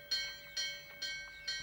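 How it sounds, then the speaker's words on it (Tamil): Temple bell rings four times at a steady, quick pace, each strike bright and metallic with a short shimmering decay, faint and distant in a quiet setting. "கோயில் மணி அடிக்கிறது நல்ல சகுனம்"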